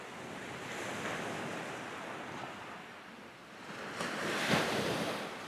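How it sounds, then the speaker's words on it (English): Sea waves wash onto a beach at Holland-on-Sea during shore fishing, a steady broadband surf with wind buffeting the microphone, swelling louder near the end as a bigger wave breaks close by. "No way, it's just waves"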